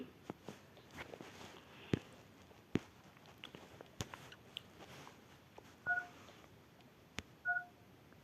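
Two short phone-dialing tones from the Toca Boca video game, a soft in-game beep followed by a second one a moment later, over faint background clicks and taps.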